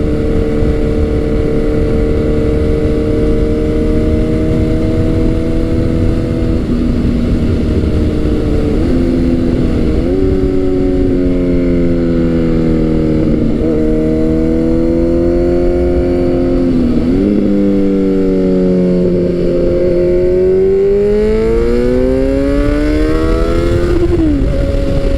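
A Kawasaki Z900 motorcycle being ridden on a longer ride, its engine droning loud and close throughout, the pitch repeatedly rising under acceleration and dipping briefly between gears.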